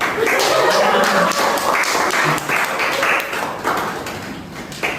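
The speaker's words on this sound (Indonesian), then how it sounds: "Tepuk tangan." A crowd applauds at the opening of a hotel service training session, with dense, steady clapping that gradually fades over several seconds.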